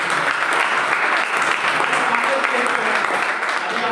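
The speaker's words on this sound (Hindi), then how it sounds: "इनके लिए तो जोरदार तालियां।" Loud, steady audience applause at a business seminar, a dense wash of clapping sustained evenly for the full stretch with no talk over it.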